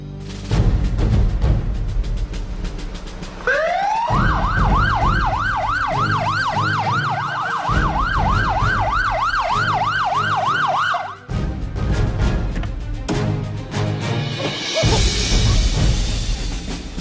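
Loud police car siren wailing up close, rising into a fast repeating yelp that cycles for several seconds, then switching to other tones amid heavy vehicle and crowd noise.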